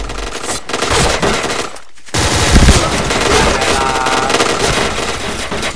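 Rapid automatic gunfire in the online shooter Point Blank, loud dense bursts filling the clip with a brief gap near two seconds, then continuing steadily.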